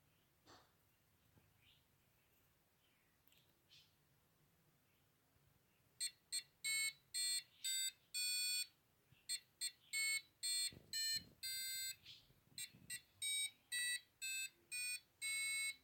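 A shrill piezo buzzer driven by an Arduino-style real time clock circuit sounds in a series of short and longer bursts with gaps between, loud against a quiet background.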